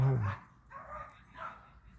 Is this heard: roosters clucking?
no